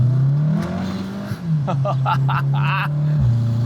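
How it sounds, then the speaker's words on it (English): A Volkswagen Golf R engine with a bigger turbo and upgraded exhaust idles and revs in a steady, loud drone, with turbo whistle, spool-up noises and exhaust rumble underneath brief talking. "you can hear the turbo like all the time with little spool up noises"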